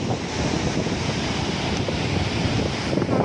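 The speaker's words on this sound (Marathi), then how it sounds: "ओशन बघा." Ocean waves roll onto Laadghar beach at Dapoli at sunset, a constant close wash of surf mixed with wind buffeting the microphone.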